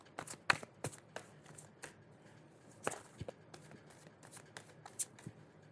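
A deck of tarot-style cards is shuffled close up, giving a series of quick papery riffles and taps in irregular bursts, fairly soft and without talk.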